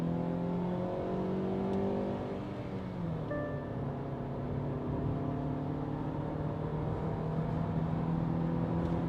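A Hyundai Exter accelerates hard from 0 to 100 in D1, its engine revving to about 6300 RPM with a steady, rising drone heard from inside the cabin throughout, no talking.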